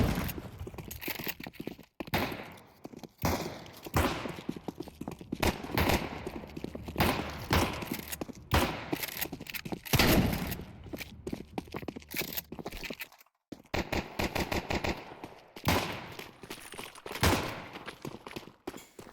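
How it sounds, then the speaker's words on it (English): Bursts of M4 rifle gunfire in Counter-Strike 2, repeated rapid volleys and single shots spread across the clip, loud and close with no talking. "teammate was shot in the back of the head with an M4"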